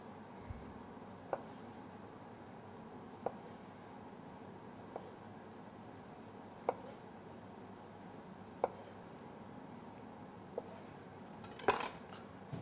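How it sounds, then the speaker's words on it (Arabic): A knife chops tomatoes on a board for a purslane salad, with sparse, sharp single cuts a second or two apart over a quiet, steady room background, and no talking. "هنبلش هلا نفرم البندورة"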